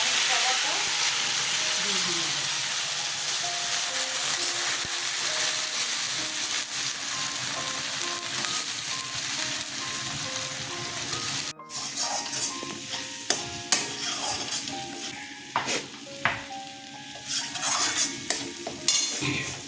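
Onions, green chillies and ginger sauté in hot oil, a dense continuous sizzle that later thins as a spoon clatters and scrapes the pan in scattered strokes.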